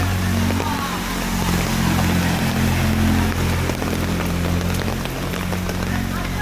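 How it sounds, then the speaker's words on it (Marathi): Floodwater pours and gushes from overflowing gutters on a rainy Mumbai night, a steady loud watery rush with rain hiss and a low hum underneath. "गटर ओव्हरफ्लो झालेली आहेत"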